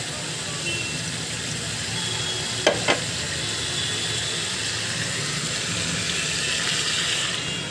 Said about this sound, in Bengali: মাছগুলো একটু নাড়াচাড়া করে পানি দিয়ে দেবো।